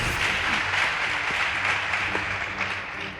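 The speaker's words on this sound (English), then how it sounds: "Please give them a round of applause" Broad, steady applause from a school audience at a high school debate between St. Martha's Mwitoti and Kakamega High School, a continuous wash of clapping that fades slightly toward the end.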